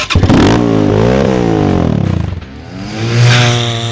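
A power sport vehicle engine revs hard with a tuned throttle, rising and falling in pitch several times, loud and close with a rough mechanical clatter before a final surge.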